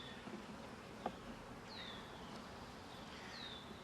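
Honey bees crawling over frames in a hive, a soft steady buzzing drone heard close but faint, with a few brief higher chirps and a single small knock.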